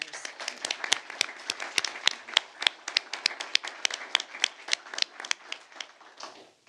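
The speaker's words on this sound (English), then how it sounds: "a round of applause for our winners." Scattered applause from a small group at a health district board meeting honoring award winners, a few distinct hands clapping in an uneven, crisp rhythm that fades out near the end.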